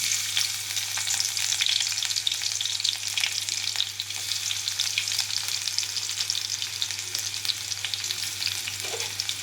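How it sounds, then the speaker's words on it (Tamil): Potato and garlic fry in hot oil with fennel seeds, giving a steady, close, bright sizzle that hisses on without a break and with no talking. "இப்போ பூண்டு சேர்க்கணும்."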